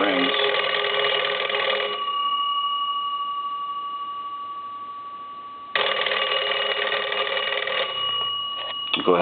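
A Leich wood wall crank telephone rings its bells in two loud bursts of rapid metallic jangling, close by, with a long pause between them in which a steady tone lingers.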